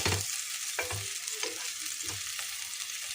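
Chopped gongura leaves cooking in a little oil in a pan, giving a soft continuous sizzle with several dull stirring knocks spaced through it, close and fairly quiet.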